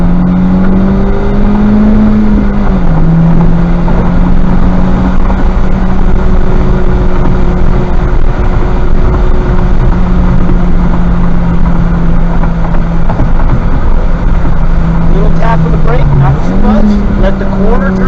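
Honda Civic Type R on a race track, engine droning steadily with shifting pitch as it accelerates and gear-changes, loud and close from inside the cabin, with a voice talking over it.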